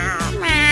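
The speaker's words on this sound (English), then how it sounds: "Meow." A cartoon kitten meows in the Cat Hair Salon birthday party game, two short bright mews in quick succession, close and clear with no talk over them.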